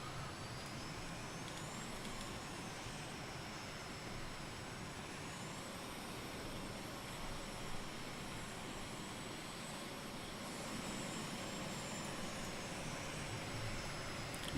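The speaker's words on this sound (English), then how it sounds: "let's pause that music so I can listen to the jet itself" A jet fighter's engine from Microsoft Flight Simulator 2020 sounds a constant loud roar with a high whine above it and a few faint tonal sweeps, with no music or talk.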